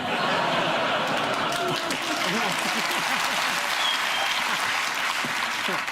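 A television studio audience gives a steady, even round of applause throughout, with a few chuckles mixed into the continuous clapping.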